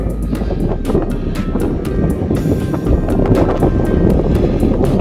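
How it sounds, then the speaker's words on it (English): Strong wind gusting across a cloudy Scottish mountain ridge on Sgùrr nan Coireachan, a loud, continuous roaring rush buffeting the microphone without letup. "The cloud is lifting, the wind's picking up as well."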